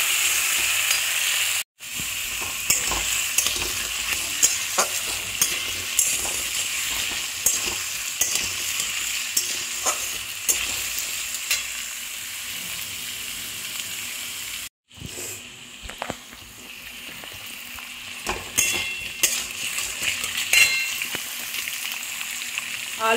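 Onion, potato, vegetable stalks and jackfruit seeds fry in oil in a pan, giving a steady close sizzle. Spoon scrapes and stirring clatter come and go over it, and the sizzle briefly drops out twice.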